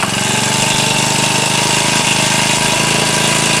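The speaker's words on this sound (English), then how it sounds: "So I'm gonna turn it on quickly so you guys see how it works." A cheap 4-stroke outboard boat motor bought from Amazon runs steadily, a loud, constant buzzing engine drone with a fast rhythmic chug throughout.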